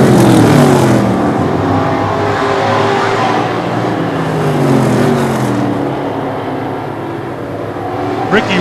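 Short-track race cars lap the tight oval at Lee USA Speedway in New Hampshire, engines roaring and rising and falling in pitch as they pass close by, a continuous loud drone with overlapping sweeps.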